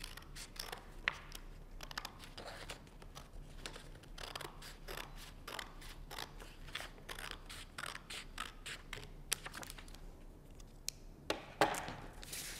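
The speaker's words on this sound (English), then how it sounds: "And then just cutting down that crease line. And I'm just gonna cut 2 pieces of paper at the same time." Scissors cut two stacked sheets of paper along a folded crease with repeated crisp snips, steady and close, over faint room noise for the whole stretch. Nobody speaks.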